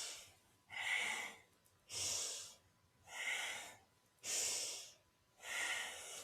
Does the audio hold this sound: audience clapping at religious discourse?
no